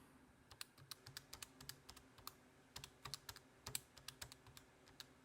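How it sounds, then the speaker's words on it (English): Numbers tapped into a calculator for a triangle-area problem: quick, irregular plastic key clicks close by, coming in short bursts with brief pauses, with no talking. "I'm just going to type it all in."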